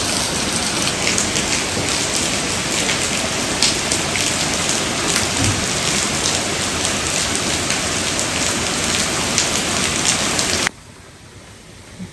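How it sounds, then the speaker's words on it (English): Heavy rain falls steadily in a dense, loud hiss for about eleven seconds, then cuts off abruptly to quiet. "What a rain."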